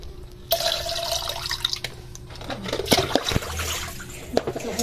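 Tap water runs and splashes steadily in a sink while milkfish (bangus) is rinsed by hand, with intermittent drips and handling noises over a close, continuous wash and no talking.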